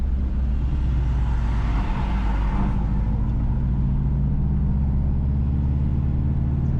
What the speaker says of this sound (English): We are now driving on the Frankfort to Gayle Road.